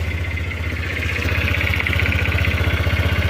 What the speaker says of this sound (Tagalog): pakiramdaman ulit natin or pakinggan ulit natin yung tunog ng ating mga motor.